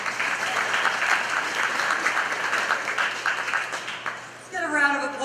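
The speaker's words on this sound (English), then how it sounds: "A round of applause for all the work Carolyn Maloney does in Washington" A press-conference audience at a groundbreaking event in Astoria applauds with dense, steady clapping for about four seconds before it fades and a voice starts speaking.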